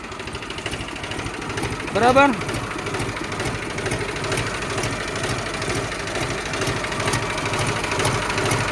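A Mahindra tractor engine runs at a steady idle with a rapid ticking knock, close and continuous, while a person speaks briefly early on over the engine.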